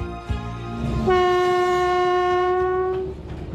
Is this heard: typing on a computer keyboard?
no